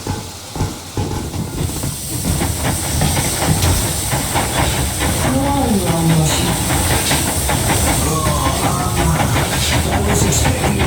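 A steam locomotive in the Metro video game pulls away with a loud continuous hiss of steam and building rhythmic clatter of the wagons, close and dense, while a voice speaks briefly over it.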